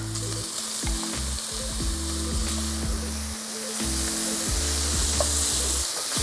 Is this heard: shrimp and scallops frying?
yes